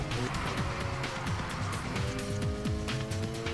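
Kenji's Bushido Mazda RX-7 in Need for Speed Heat races hard with a high engine whine rising and dropping through repeated gear changes, and tire squeal under it throughout.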